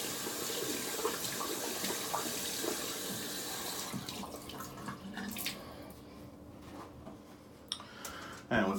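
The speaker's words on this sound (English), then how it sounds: "I will rinse out the brush" A shaving brush, a synthetic one, is rinsed under a running tap after a wet shave, giving a steady close hiss of flowing water that thins out in the second half, broken by small splashes and a sharp knock near the end.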